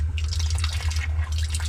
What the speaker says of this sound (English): Trickle coming through.